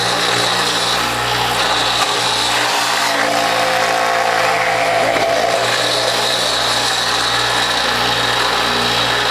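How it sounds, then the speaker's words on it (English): A food processor shreds carrots with a loud, continuous motor whir and grinding churn, steady and close throughout, with no voices. "And then I'm going to continue shredding the rest of my carrots."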